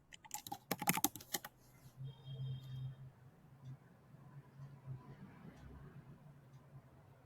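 Quiet clatter of a computer keyboard being typed on during an online interview call, a short burst of keystrokes at the start that fades into faint room hum and a few scattered clicks.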